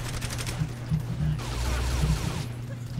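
Rapid bursts of shotgun fire from a video game, several loud blasts in quick succession over a steady game soundtrack hum.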